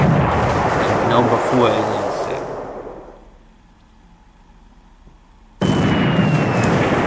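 Torpedo explosions striking a troop transport ship in the War in the Pacific naval strategy game, a loud rumbling blast under a voice that fades into quiet before another sudden heavy burst.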